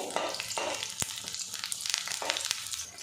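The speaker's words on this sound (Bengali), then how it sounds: "একদম লো হিটে এগুলো ভাজা ভাজা করে নেবেন" Aubergine pieces fry in a pan over low heat, with a soft, uneven crackle, a sharp knock near one second, and scattered spattering pops close by.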